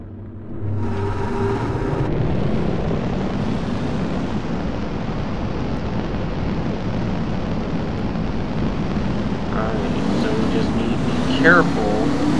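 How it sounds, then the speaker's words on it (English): Race car engines roar in NASCAR Racing 4 at the Pepsi Southern 500, rising sharply after a brief quiet start into a loud, steady, continuous drone of a pack of stock cars. "Gentlemen, start your engine!"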